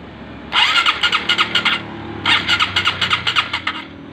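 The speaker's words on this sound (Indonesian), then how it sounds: "kita nyalakan, kunci kontak on" A Honda CBR 150 motorcycle engine cranks on the electric starter in two bursts of rapid rhythmic chugging, each about a second and a half long, close and loud over a low steady hum.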